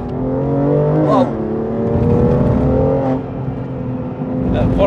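A BMW M2 Competition tuned to 680 hp, heard from inside the cabin on a timed test drive: a steady, loud engine drone that swells and shifts pitch under continuous driving, with a passenger talking over it throughout.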